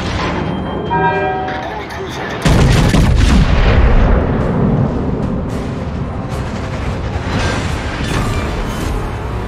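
Heavy naval gun salvos boom from a Montana battleship in a naval combat video game, a sudden loud blast followed by sustained rumbling fire and echoing impacts, with a voice speaking over the din.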